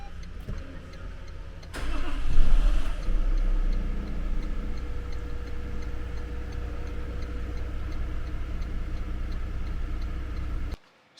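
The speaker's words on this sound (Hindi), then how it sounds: "कुछ इस तरीके से ये गाड़ी आपको वेलकम करती है जब आप इसका इंजन स्टार्ट करते हैं।" A Toyota Land Cruiser LC300 engine cranks and catches with a loud surge after a quiet moment, then settles into a steady low idle, with a soft regular ticking running throughout until it cuts off.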